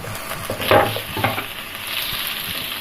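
Carrots and peppers stir-frying in a wok over high flame for hakka noodles, a close, continuous sizzle with repeated scraping and tossing bursts, no voices.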